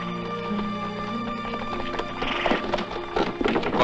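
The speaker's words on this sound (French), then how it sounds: "Faites aussi monter 2 chevaux, il y a de la place." Horses are led aboard for a river crossing in a 1961 film scene, with clopping hooves on wooden boards and a whinny over a low steady background, growing busier and louder toward the end.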